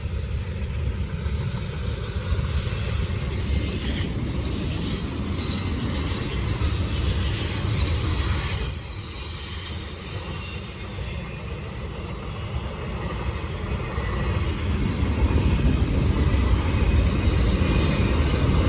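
Canadian National freight train led by four C6M, one GEVO and one ACE locomotive rolling past, steady rumble of wheels and cars with high wheel squeal and flange screech throughout, close and loud.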